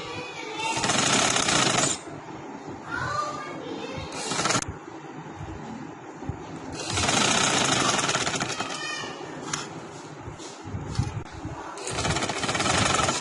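Sewing machine stitching a ladies' kurta, loud whirring runs in bursts of a few seconds with quieter pauses between them while fabric is repositioned.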